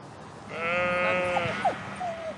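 A sheep in a marshland flock bleats loudly up close in one long wavering call, followed by a few shorter, fainter bleats from the animals nearby.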